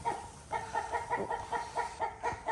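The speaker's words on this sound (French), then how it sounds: "Il est beau, le coq." A rooster and hens clucking in a farmyard at a van-life homestead, with repeated rhythmic clucks at a steady pulse, fairly close and moderately loud, no talking.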